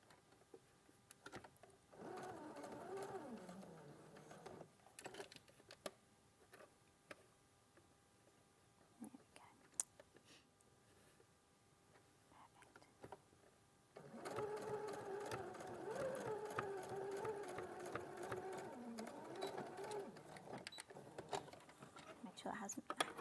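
A domestic sewing machine stitches around a corner, running in two bursts with a pause for pivoting between them, moderately close but quiet, while people talk over it.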